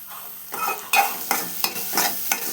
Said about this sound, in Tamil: பச்சை மிளகாவையும் வெங்காயத்தையும் போட்டு நல்லா கிளறணும்